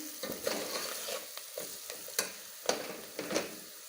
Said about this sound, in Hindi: 1 मिनट के लिए हम इसको अच्छी तरह से हिलाएंगे।